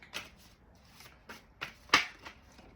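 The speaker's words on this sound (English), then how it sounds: "I'll cut the deck." A tarot card deck is cut and shuffled by hand, giving a series of soft, close riffling flutters and a few crisp slaps, spaced irregularly with no talking.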